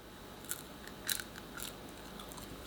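A few quiet, crisp crunches of a potato chip being bitten, spaced irregularly over a soft steady background hiss.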